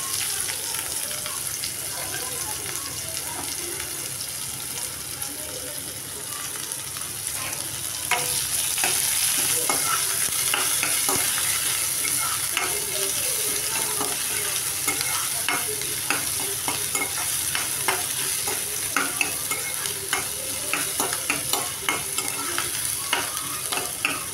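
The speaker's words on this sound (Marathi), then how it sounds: "लसूण थोडीशी चांगली फ्राय झाली ना तेलामध्ये की त्याच्यामध्ये हे कढीपत्ता टाकते आणि हा कांदा टाकून घेते सर्व." Curry leaves and onion fry in oil with garlic while being stirred, a constant sizzle with repeated scraping and stirring clatter that grows a little louder midway, no voices.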